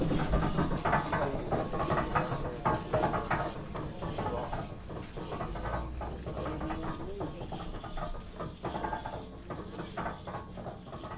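A 108-year-old antique steam donkey engine runs close by, its mechanism clattering and clanking in a steady rhythmic churn for the whole stretch, with no one speaking.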